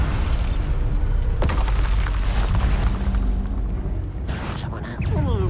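Bombarda blasting spells explode amid Hogwarts Legacy combat, with sharp booms and rumbling bursts over steady loud battle noise, alongside shouted spell calls.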